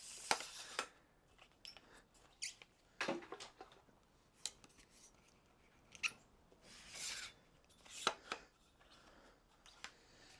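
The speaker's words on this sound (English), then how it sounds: "open the legs up, couple of clamps on the legs slide out, and you do the clamps back up again" Clamps on Manbily tripod legs are opened and the legs slid out, producing quiet, close, sharp snaps and clicks mixed with brief sliding scrapes at irregular intervals.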